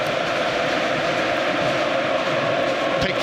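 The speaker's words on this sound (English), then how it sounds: "This is the sound of Wembley Stadium." A dense, continuous roar from a huge football crowd at Wembley Stadium during England vs Germany at Euro 2020 fills the space at a steady, loud level throughout.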